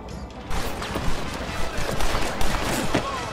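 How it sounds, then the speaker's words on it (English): Video-game gunfire in Red Dead Redemption pops in a dense, busy western shootout, repeated shots and mechanical clatter over game music with faint voices. "You shoot that other side, Craig."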